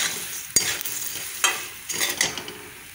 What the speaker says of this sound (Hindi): अब इसमें चना और मुरमुरा डाल के भूनेंगे।